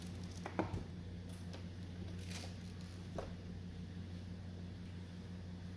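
The power supply of a Samsung PN42A450P1D plasma TV, faulty and switching on then off with no VS or VA voltage, gives several sharp, faint clicks spread irregularly over a steady electrical hum.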